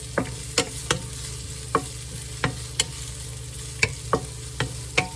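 Stir-fry vegetables with carrots being tossed in a pan over a low steady sizzle, punctuated by about a dozen crisp, evenly spaced spatula taps and scrapes.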